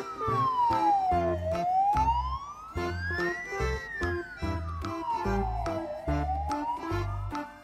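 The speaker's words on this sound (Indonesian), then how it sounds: "Mobil ambulans." A toy ambulance sounds its electronic siren, a loud wailing tone sweeping slowly up and down, layered over a repeating beeping melody, with no talk.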